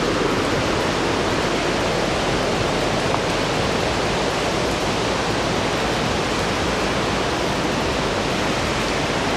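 Constant loud rushing water from a mountain river and waterfall on the Joshimath–Ghangaria trek, a dense broadband roar, unbroken for the whole stretch.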